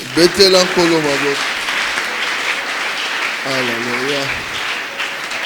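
Church congregation applauding at a religious service, steady dense clapping throughout with a voice calling out loudly over it at the start and again midway.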